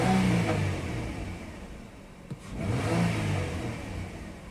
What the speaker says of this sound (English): Oh, here, we'll give it a couple of revs real quick.